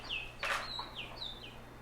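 Songbird calls in spring: several clear, high whistled chirps spread across the moment, fairly close and alone, with a brief louder burst in the middle.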